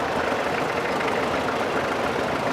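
Vintage McCormick International tractor engine running steadily at a vintage machinery show, a dense continuous low rumble with busy mechanical clatter, loud and close, no talk over it.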